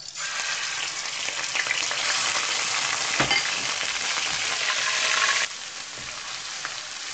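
Ginger and garlic paste frying with whole spices and bay leaf (tejpata) in a pan over low heat for dal makhani, a steady dense sizzle with a brief stir around the middle, easing slightly toward the end, no talking.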